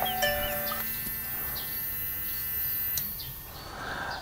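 A small Tamiya Mini 4WD electric motor, an Atomic-Tuned 2 being broken in, runs with a steady, quiet, high-pitched buzzing whine throughout the short stretch.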